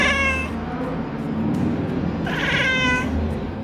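A domestic cat meowing up close, two drawn-out, wavering calls separated by a short pause, loud and clear with no other sounds.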